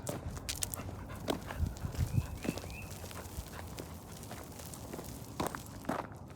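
A Boykin Spaniel moves around outdoors, its quick paw steps and rustling scattered close by, with a faint whimper partway through and no talking.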